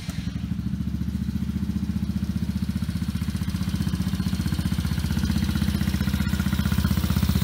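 A Tao GK110 Pony scooter's small engine idles steadily after starting, a close, even, rapid putter with a faint mechanical clatter that holds constant throughout, with no speech.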